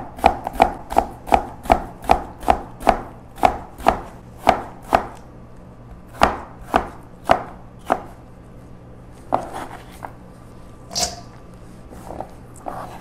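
A knife chopping radish into julienne strips for Korean radish salad, sharp rhythmic cuts on a cutting board striking evenly and briskly, then slowing and spacing out with a few scattered knocks near the end.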